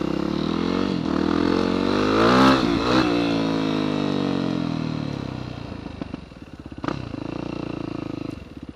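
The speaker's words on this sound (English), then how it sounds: "now I'm going to have to do the quick acceleration for show" A vehicle engine on a night trail ride revs hard in a quick acceleration, its pitch sweeping up loudly and close, then easing off before a second shorter rev near the end.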